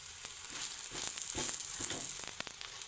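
A veg paratha cooks on a hot pan with a quiet, steady sizzle, soft crackles and occasional light scraping pops, faint and close.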